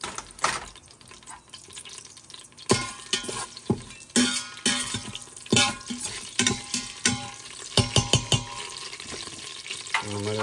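Green chillies fry in oil for biryani while being stirred, with a soft sizzle under irregular, close scrapes and knocks of the spoon against the pot, and nobody talks.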